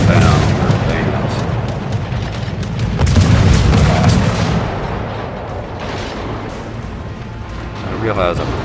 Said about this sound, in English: I do let my torpedoes go, hopefully to try to at least slow them down or advance.